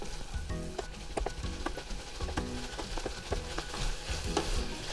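Soy sauce sizzles hard in a hot pan over high heat as it cooks off with burdock kimpira, a steady crackling hiss broken by stirring scrapes and clatters, close and loud with no talk.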